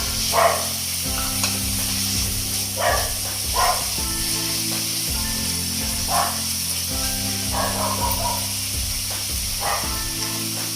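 Green chillies sizzle steadily in a pan of chicken gravy curry while a spoon scrapes and stirs in repeated strokes, close and continuous, with no talking.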